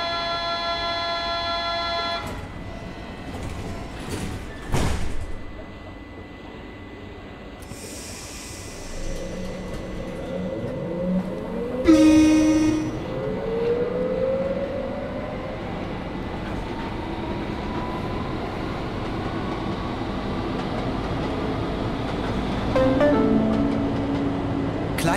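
A Berlin U7 subway H-series train departs in the simulation game Trainz 2009, starting with door-closing beeps and thuds, then rising motor whine and rumble as it accelerates steadily, with a few squeaks and clicks along the way.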